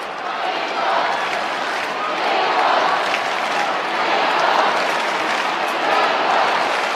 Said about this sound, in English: West Coast fans urging on their team.